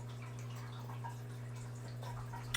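A small tabletop water fountain runs steadily with a soft trickle and drips, close by and fairly faint, under a constant low electrical hum.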